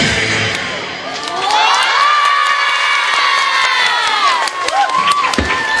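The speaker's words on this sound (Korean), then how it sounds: "눈앞에서 펼쳐지는 현란한 묘기에 환호성이 저절로 나온다." A crowd of children at a pizza dough show cheers and shouts loudly, with sustained high whoops that rise and swell close by, then scattered yells and shrieks break in as the cheering carries on.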